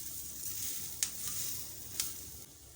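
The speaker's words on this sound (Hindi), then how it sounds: "बिल्कुल लो फ्लेम पे मैं पका रही हूँ इसको" Vegetables frying on a tawa pan over a low flame, a soft steady sizzle with two brief sharp pops, close and alone without talk.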